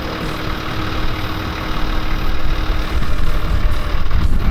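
A 4WD crawls slowly over The Wires track at Maratoto in the Coromandel while its front left wheel spins. The engine gives a close, steady, rumbling drone throughout, with no talk.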